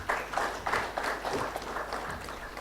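Audience applause at an education summit session, a dense burst of clapping from a crowd in a hall, rising and falling in rhythmic swells across the whole short stretch with no speech over it.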